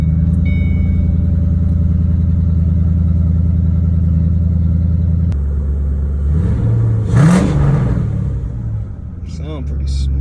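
A 2007 Ford Mustang GT V8 with an SCT tune rumbles at a steady idle, then gets a quick rev that rises and falls before settling back to a loud, close rumble.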